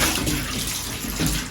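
Water pours steadily from a hose pipe onto and through a glass enclosure being deep cleaned, a continuous close splashing rush that swells slightly near the start and end.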